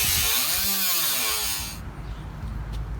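A Dotco cutoff wheel cuts through the inner structure of a car hood with a loud, shrill metal-grinding whine up close. The pitch shifts as the wheel bites, then the cut drops into a lower rumble as it eases off.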